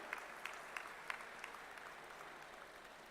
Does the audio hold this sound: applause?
yes